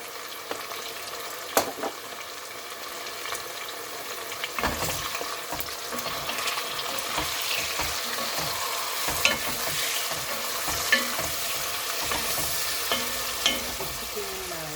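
Chili powder sizzles in a hot pan, a continuous frying hiss broken by sharp scraping clicks as a utensil stirs it every second or two.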